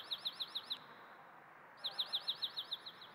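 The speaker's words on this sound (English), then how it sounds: "And that is the song of dark-eyed junco" A dark-eyed junco sings two bursts of quick, evenly spaced high chirps, about six notes each, with a short pause between them. The song is fairly close and stands clear over a soft background hiss.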